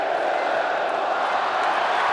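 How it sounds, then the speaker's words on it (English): A stadium crowd roars in a sustained, loud, unbroken swell at the final whistle of a rugby league State of Origin series decider won by New South Wales. "There goes the roar from the crowd"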